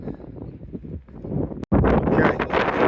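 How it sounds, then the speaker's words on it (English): Strong, gusty wind buffets the microphone on a clifftop by a lighthouse in Sagres, Portugal, roaring in uneven surges that drop out briefly, then return louder and closer. "Very windy up here. Very gusty, very windy."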